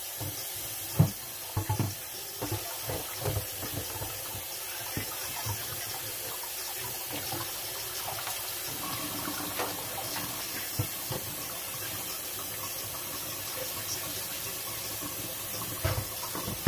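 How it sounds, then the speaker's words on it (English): Tap water runs steadily into a sink while rinsing grease cleaner off a metal pan, with soft splashes and occasional clunks of the pan against the basin. "we are about to do the rinse. This is rinsing off the Mean Green"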